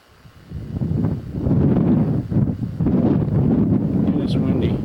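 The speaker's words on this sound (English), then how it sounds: "And it's windy." Steady, heavy wind rumbles and buffets the microphone in continuous low gusts on a ranch hillside with cedars and oak, with a faint higher rustle near the end.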